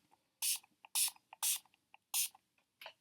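Several short hissing bursts of a makeup setting spray bottle in a steady rhythm, each with a faint pump click, close and quiet, with no talking.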